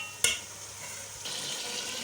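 Chicken frying in a pot for biryani, a soft continuous sizzle with a sharp utensil clink near the start and stirring scrapes later.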